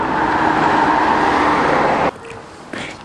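Road traffic in England, with cars driving on the left, passes close by as a loud, steady roar of a vehicle that cuts off abruptly, leaving quieter street ambience and a brief passing sound.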